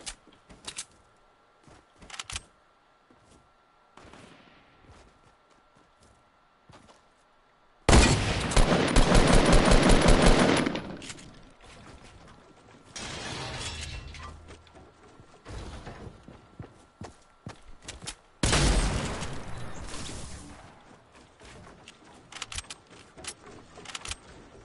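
Gunfire in the Fortnite video game: two loud, dense bursts of rapid shots, one around the middle and one near the end, with sparse clicks and mechanical clatter between them and no speech.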